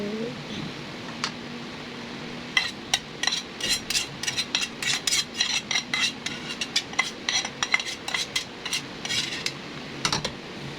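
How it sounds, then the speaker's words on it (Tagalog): Chicken biryani being stirred in a pan too small for the batch, a utensil scraping and knocking in irregular bursts of clatter, close and moderately loud over a low room hum. "Yan, sige, haluin mo. Haluin mo."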